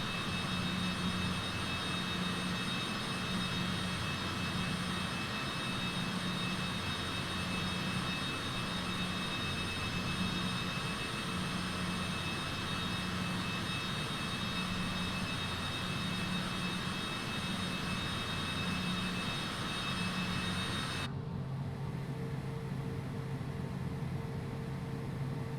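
A Cessna Citation CJ4 business jet in Flight Simulator 2020 runs up for takeoff, its engines holding a loud, steady roar with a broadband whine. Partway through, the roar drops suddenly to a quieter, duller hum.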